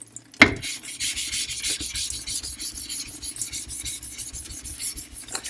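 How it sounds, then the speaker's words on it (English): A sharpening stone is rubbed back and forth on a diamond plate, a close, steady gritty rasp of repeated strokes after a sharp opening knock, with no talking. "When you lap it, lapping goes well. You get like this type of mud pretty quickly."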